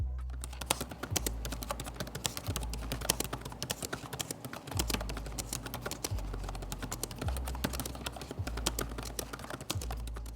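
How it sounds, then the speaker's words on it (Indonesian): Fast, light clicking of an Asus ExpertBook B5 Flip B5302FEA laptop keyboard being typed continuously, close and crisp, with occasional heavier key presses over a faint low hum. "contoh suara feedback dari keyboard Asus ExpertBook B5 Flip B5302 FEA"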